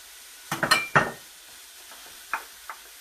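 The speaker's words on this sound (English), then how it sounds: "And now we just saute this for a few minutes." Smoked bacon, onion and carrot are sautéed in a pot for a sausage and bean stew, with a quick cluster of stirring scrapes and clatter, then two lighter taps over a faint sizzle.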